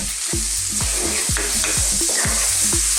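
Garlic and stew ingredients for a mild Ethiopian beef and pumpkin stew are stirred in a hot pot, giving steady loud sizzling with a regular series of scraping spoon strokes, close up and without speech.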